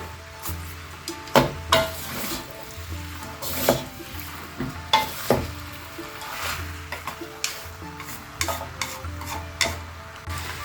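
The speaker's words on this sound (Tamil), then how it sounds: "இன்னும் அந்த கீரையை போட்டு நல்லா கிண்டி எடுத்தோம்னா" Fried noodles with leafy greens tossed and stirred in a pan for mee goreng, with repeated scraping and clattering strokes over a continuous sizzle, close and moderately loud.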